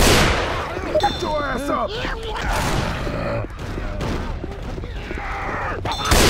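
Left 4 Dead 2 gameplay with rapid bursts of gunfire and clattering shots spread throughout, under someone shouting.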